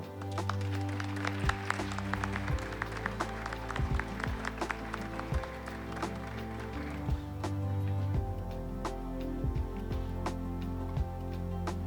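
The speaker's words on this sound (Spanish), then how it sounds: "Un fuerte aplauso, por favor." Applause rises at a Bolivian architecture talk as an award is presented, with scattered claps cutting through a steady tonal musical backdrop that plays throughout.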